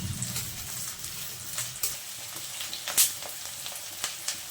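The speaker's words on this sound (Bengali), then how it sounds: "ক্যাপসিকাম কুচি দিয়ে দিলাম, পেঁয়াজ কুচিটাও দিয়ে দিচ্ছি। এখন ভালোভাবে এগুলো একটু নাড়াচাড়া করে নেব।" Chopped capsicum and onion fry in a pan while being stirred, giving a soft sizzle with scattered scraping and clinking of the spoon, quiet and close, with no talk.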